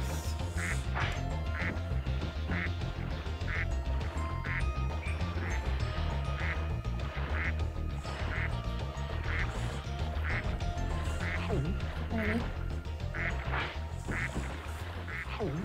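Cartoonish ducks in the Mystic Marsh level of Spyro 2: Ripto's Rage quack in a steady, evenly spaced series of short calls, about two per second, over continuous background game music.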